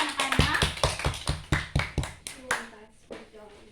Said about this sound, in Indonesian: Kita berikan tepuk tangan ya anak-anak.